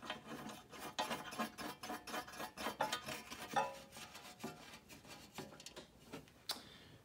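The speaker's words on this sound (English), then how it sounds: "Put the screw in, or bolt, I should say." A bolt is turned into a belly pan protector on a Sidewinder, giving quiet, close, rhythmic rasping clicks that repeat steadily for several seconds with no voices.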